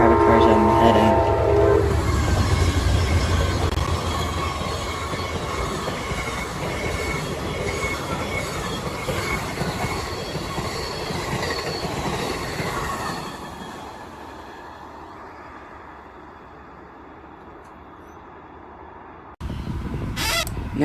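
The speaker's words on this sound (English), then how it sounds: "we have an Amtrak P048 with 2 private cars on the head end" Loud, close pass of an Amtrak P048 train led by a locomotive with two private cars behind it, a roaring rumble with a brief horn blast at the start and wheel squeal, then fading to a quiet tail before a sudden burst of noise returns at the end.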